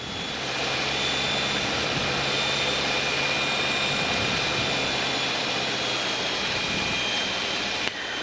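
Steady, loud drone of a light airplane's engine holding power while descending on final approach with a left crosswind at about 80 knots, continuous throughout with no voices over it.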